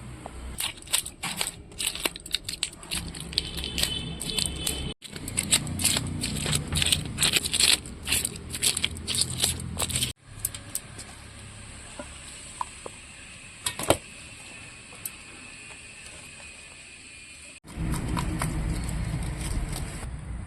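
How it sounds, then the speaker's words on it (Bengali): Scales being scraped off a large catla fish, about three kilograms: bursts of rough rasping strokes in quick runs, broken by short pauses, close and moderately loud. "এই দেখুন বন্ধুরা মাছের পুরো দু সাইডেরই আঁশটা আমি ছাড়িয়ে নিয়েছি"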